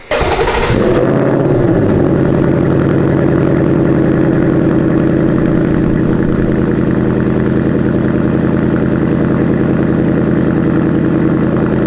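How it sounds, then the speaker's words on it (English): S650 Ford Mustang with a Steeda H pipe exhaust on a cold start in normal mode: a sharp startup flare, then a steady loud, throbbing idle rumble holding evenly without talk. "So we got the car, just did the cold start in normal mode."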